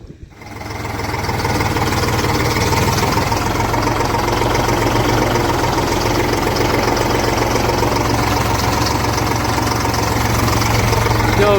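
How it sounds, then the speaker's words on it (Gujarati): A big tractor engine runs steadily on a farm, a loud, close, rumbling drone with a constant knocking throb that holds unchanged after a brief quiet start. "મોટું ટ્રેક્ટર છે ને"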